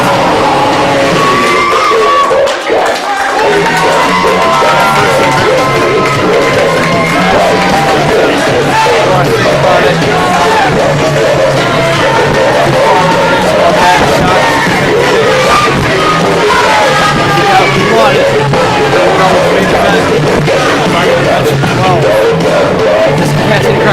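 Capacity crowd at a wrestling show in New York, roaring and yelling continuously at full volume with cheers and whoops throughout, loud and close.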